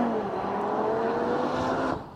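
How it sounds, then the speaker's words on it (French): A 2022 Audi RS3's five-cylinder engine drones at steady revs from inside the car, a continuous loud hum holding nearly constant pitch for about two seconds before easing off. "Joli 5 cylindres."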